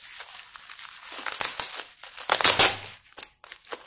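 Tape and cardboard crinkle and rip as a taped package is torn open, close and busy with bursts of tearing and crumpling, no voices.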